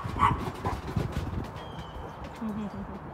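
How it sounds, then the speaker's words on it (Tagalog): Dogs bark and yip in short bursts near the start, mixed with a voice and faint birdsong, then quieter whining sounds. "Naiingayan yata sa mga aso ko eh. O, maingay kasi kayo eh."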